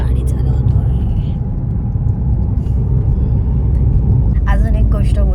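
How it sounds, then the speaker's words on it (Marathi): A car being driven gives a steady low engine and road rumble from inside the cabin, continuous throughout, with a brief voice near the end. "आणि इकडे सँडी गाडी चालवतो आहे."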